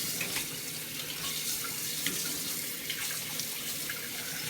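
Tap water runs into a sink while a juicer bowl is rinsed out, a steady close splashing rush with small irregular spatters and no voices.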